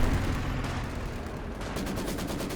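Incendiary artillery fire in Company of Heroes 2, a dense, continuous barrage of explosions and gunfire crackle with steady loudness throughout, plus rapid repeated bursts toward the end.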